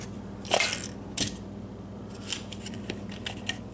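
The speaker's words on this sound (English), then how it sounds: "I'm messing with the tape here." Tape being handled and pulled during work on a third brake light, with a few crisp tearing and crinkling bursts at irregular intervals, close and fairly quiet, no talk.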